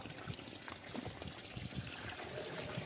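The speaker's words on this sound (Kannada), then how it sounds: "ನೀರು ಹಾಕ್ಕೊತೀವಿ" Water trickles and splashes steadily into a can, soft and continuous, with faint background noise, while a farm spray mix is prepared.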